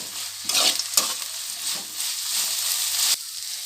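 Potato pieces fry in a pan for poha upma and are stirred, producing a close, steady sizzle with bursts of scraping stir strokes. The sound cuts off sharply near the end.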